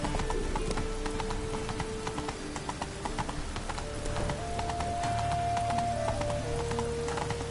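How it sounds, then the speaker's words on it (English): Steady rain falls in The Witcher 3: Wild Hunt, a dense continuous patter heard alongside clip-clopping horse hooves and low game music, with no talking. "Rain, I like rain."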